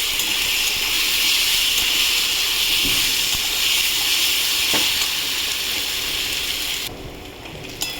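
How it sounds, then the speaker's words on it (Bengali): Garlic frying with potatoes in a pan of oil, a dense continuous sizzle held close throughout, with a couple of faint knocks, easing off near the end. "এই রসুনটা একটু ভাজা ভাজা করে নেব"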